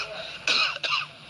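A man coughs twice in quick succession, close and loud, with harsh throat-clearing bursts and no speech.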